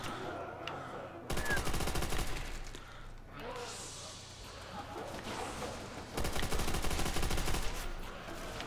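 MG42 machine gun fire in Call of Duty: World at War zombies on Nacht der Untoten, two loud sustained rapid bursts separated by a quieter gap of game noise, with players talking over it.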